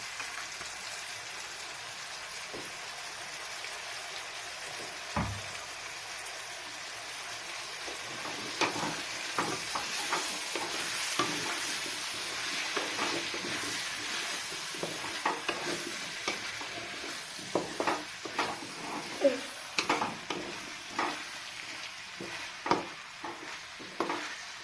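Potato and brinjal pieces frying in a pan, a soft steady sizzle with a knock near the start, then a run of quick irregular stirring scrapes that grow more frequent toward the end, no speech.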